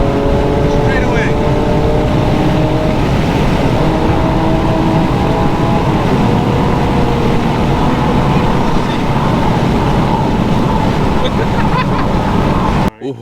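Infiniti G37 with muffler and resonator deleted, its exhaust droning loud and steady close by for over ten seconds, with voices talking over it.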